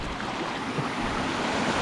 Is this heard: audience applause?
no